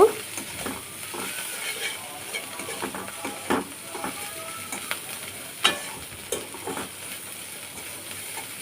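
Shrimp and yardlong beans fry in a pan, a steady sizzle broken by repeated stirring scrapes and clinks close by, with no talking.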